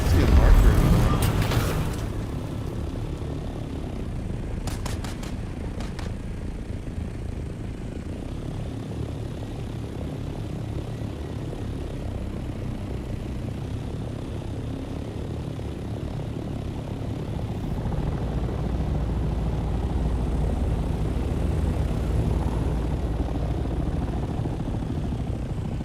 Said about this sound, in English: Copter.